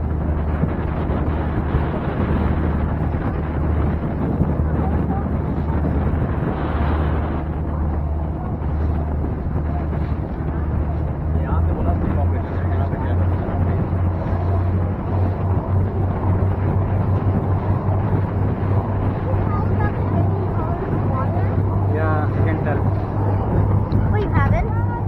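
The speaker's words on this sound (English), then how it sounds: "it is super windy right now" Strong wind buffets the microphone on a glass bottom boat tour in Florida, a loud steady roar with a low engine hum running underneath throughout.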